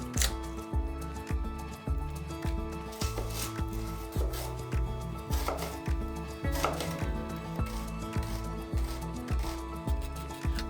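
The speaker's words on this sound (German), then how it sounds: "Erst werde ich den Zwiebel schälen und ganz fein hacken." An onion chopped finely with a knife on a cutting board, a steady rapid series of close, crisp taps continuing throughout, with faint kitchen background noise.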